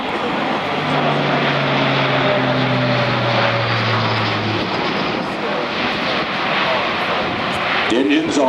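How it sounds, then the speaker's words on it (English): Loud, steady drone of an Airbus A400M Atlas military transport's Europrop turboprop engines close by, a low throbbing tone that holds and then fades into broad roar. "It can then use those huge propellers to reverse down the strip"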